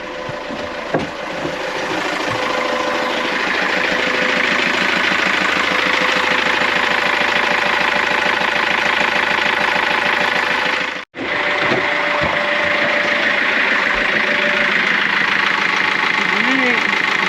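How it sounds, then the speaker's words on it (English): Boat engines, left in the tropics, idle steadily after starting, with a continuous mechanical drone and rhythmic knocking, briefly cutting out once midway, with voices talking faintly underneath. "I'm gonna start the engines."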